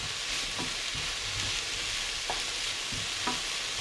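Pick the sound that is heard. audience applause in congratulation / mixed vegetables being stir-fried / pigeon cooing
mixed vegetables being stir-fried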